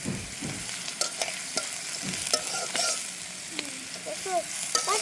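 Dried chili, garlic, onion and greens frying in a pan on a brick-built village stove, a loud continuous sizzle with repeated stirring scrapes and clanks close by, no one speaking.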